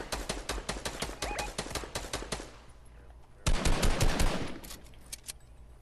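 Fortnite gunfire rattles in fast automatic bursts, loud and near, stops for a moment, then returns with a heavier, punchier volley before fading into sparse shots.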